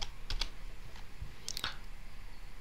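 Quick light keystrokes on a computer keyboard at a PC while searching in Windows, a few soft clicks in short clusters, close but quiet.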